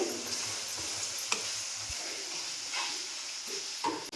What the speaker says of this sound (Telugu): టమాటాలు అయితే వేసేసినాము బాగా వేగినాయి